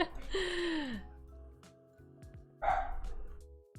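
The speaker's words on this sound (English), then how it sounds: "he's a loud dog" A loud dog barks in two bursts, a long one at the start and another near the end, with quieter household noise between them and no talk.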